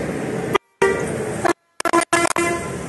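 A vehicle horn honks repeatedly, loud and close, in long blasts followed by a quick series of short toots.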